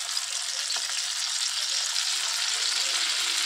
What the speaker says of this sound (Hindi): चलिए इसमें तेल को गिरा देते हैं।